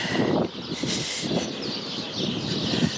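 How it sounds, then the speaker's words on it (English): Birds chirp on a Toronto street in the Trinity-Bellwoods neighbourhood, with a few short calls rising over steady outdoor street noise. "Must be a bird's nest somewhere."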